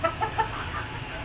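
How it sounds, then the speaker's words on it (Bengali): Chickens on a small rooftop egg farm give a few soft, brief clucks up close over a low steady background hum, with no one talking. "বাড়ির ছাদে ছোট্ট একটি মুরগির ফার্ম করেছি।"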